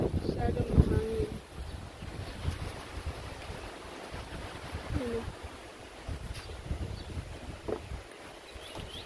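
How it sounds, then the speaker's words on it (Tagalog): Strong wind blows across an outdoor berry and strawberry garden, buffeting the microphone with a steady low roar. A louder gust comes near the start, and a voice is faintly present. "Masyadong mahangin."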